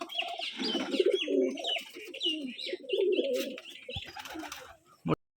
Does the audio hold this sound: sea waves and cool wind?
no